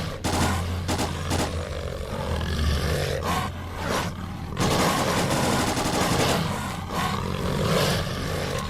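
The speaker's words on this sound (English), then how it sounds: "I do hear a lot of bullets though" Dense gunfire rattles through a S.T.A.L.K.E.R.: Clear Sky battle, with continuous loud bursts and heavy booms layered over a rumbling roar, near and relentless for the whole stretch.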